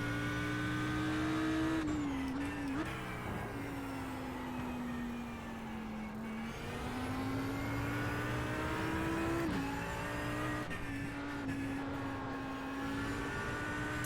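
An Audi R8 race car engine at the Spa circuit in the iRacing simulator roars steadily and loudly throughout, its pitch dropping sharply at gear shifts and braking before climbing again, with no voices.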